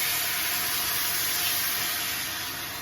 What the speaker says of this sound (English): That's the sizzle you're looking for.